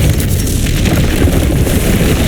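A Confringo blast spell explodes in the Hogwarts Legacy video game, a loud, dense roaring rumble that holds steady for about two seconds with no voices.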